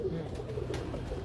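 Hunter breed pigeons coo in low, soft, throaty murmurs close by, a steady continuous burble over a dense background.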